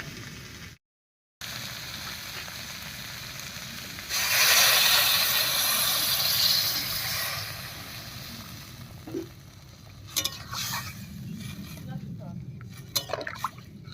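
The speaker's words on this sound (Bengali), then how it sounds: "এবার ঝোলের জন্য জল দেব।" Water is poured into a pan of spice paste that has been frying for fish curry with potatoes and greens, giving a loud, steady hiss and rush for a few seconds before settling into a lower bubbling with occasional clinks.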